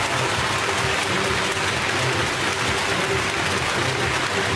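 A home crowd applauds a gymnastics performance at the 2011 Stuttgart World Cup women's all-around, dense, steady clapping that fills the arena without pause.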